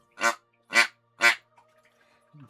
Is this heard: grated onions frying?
no